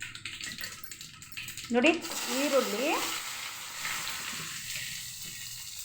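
Mustard seeds and curry leaves hit hot oil for chitranna, setting off a sudden loud burst of crackling sizzle that settles into a steady hiss, close up, with someone speaking briefly over it.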